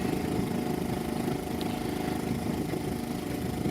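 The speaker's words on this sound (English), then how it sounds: "I can leave the engine running a little bit. It'll push the nose in to the dock" An outboard motor idles steadily on a small sailboat, a John Welsford Navigator, while it noses in to a dock on Lake Superior, giving a continuous low-pitched drone throughout at moderate distance with no talking.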